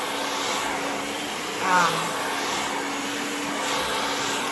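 A hair dryer blows over coarse curly hair, a steady close whooshing drone with one brief louder surge near the middle and a faint voice in the background.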